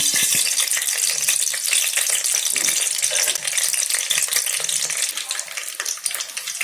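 Spices for chicken biryani gravy sizzle and crackle in hot oil, a steady bright hiss with rattling and scraping as they are stirred in the pot.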